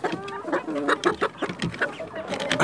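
Peruvian criollo hens and a rooster cluck steadily and close by in a backyard coop, making a busy overlapping chatter of short calls at moderate loudness.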